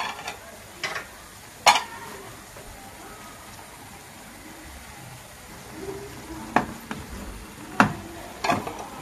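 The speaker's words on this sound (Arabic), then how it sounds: "غادي نخلطوا هاد الكفته مع البصله. كنخليو هاد الكفته حتى كتشحر لنا مع البصله." Minced meat kofta is stirred with onion in a pan, a faint sizzle running underneath while a spoon scrapes and clacks against the pan in scattered bursts, close and fairly quiet.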